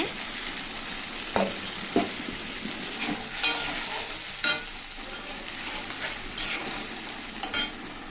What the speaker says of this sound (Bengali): যেই ভাজা হয়েছে দেখো সামান্য জল দিয়ে আমি নাড়া নাড়ি করেছি